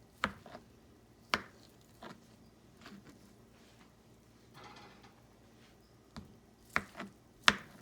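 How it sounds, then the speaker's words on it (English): Knife chopping cooked chicken pieces on a cutting board for chicken salad, a few sharp isolated taps spaced irregularly over a quiet kitchen background, close and fairly soft. "I'm just chopping them down a little bit more."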